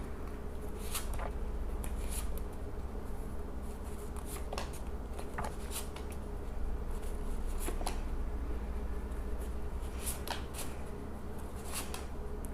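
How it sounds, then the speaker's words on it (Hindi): Tarot cards drawn and shuffled by hand: a continuous papery rustle with scattered sharp flicks and snaps, close up over a low steady background hum. "चलिए मैं कुछ कार्ड्स निकालती हूँ रैंडमली यहाँ पे"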